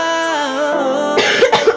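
A person coughs several times in short rough bursts, close and loud, after a moment of sustained voicing.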